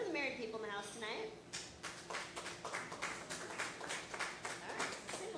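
A comedy club crowd at a Thursday night show in St. Louis breaks into scattered clapping and applause, with a voice talking over the start before the claps take over in a steady, moderately close patter.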